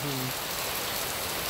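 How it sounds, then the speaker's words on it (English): Heavy rain pouring down in a jungle near a river, a dense steady broadband hiss that fills the whole clip at close range, with a faint brief voice-like tone at the very start. "So it's pouring really hard right now, it's insane."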